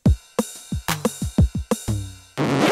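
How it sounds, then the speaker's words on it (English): Drum machine demo with loud, punchy electronic hits: deep pitched kick thumps alternating with sharp snare-like cracks in a steady groove, ending on a burst of bright noisy buzz, with no voices. "Does your drum machine sound like this?"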